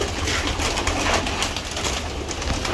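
A pigeon coos close by in soft repeated calls over a constant background hiss, with no talking.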